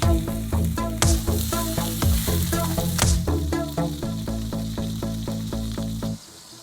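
Steak frying in a pan, a loud continuous sizzle with rhythmic crackling pops throughout, fading out at the very end.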